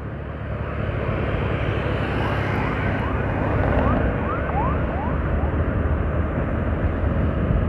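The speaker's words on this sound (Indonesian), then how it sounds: "ambulan lagi" An ambulance siren on a road between Klaten and Kartasura, a series of rising wails heard over loud, steady road and engine noise, passing in the middle of the stretch.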